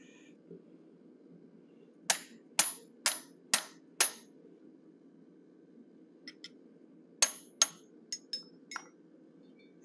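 Hammer blows on a pointed punch set into steel, shaping the ears of a forged bear head: two bursts of sharp metallic clinks, five evenly spaced then a lighter irregular run, ringing close over a low steady hum.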